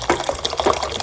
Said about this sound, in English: We like to hear water splash it.